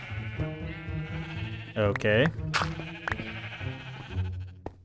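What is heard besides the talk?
sheep bleating in Minecraft video game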